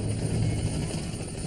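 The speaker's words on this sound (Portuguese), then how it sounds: "Dava para ouvir um helicóptero à distância." A police helicopter drones in the distance over a plane crash site on the Potomac River: a steady, continuous low rumble with no voices.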